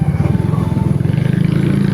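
A motorcycle engine runs steadily while riding, giving a close, loud, pulsing low rumble with a rapid rhythmic beat and some mechanical clatter, with no talk over it.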